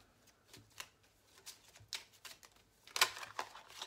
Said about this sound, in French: je vais tirer 2 cartes de l'oracle Evelyne